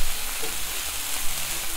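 A spiced tofu wrap filling cooks on low heat in a pan, a loud, dense, even sizzle with faint stirring bumps, steady throughout and free of speech.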